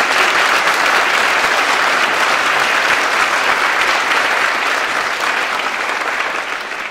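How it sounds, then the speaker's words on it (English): Concert audience gives a big, sustained round of applause, dense and loud throughout, easing slightly toward the end. "Big round of applause."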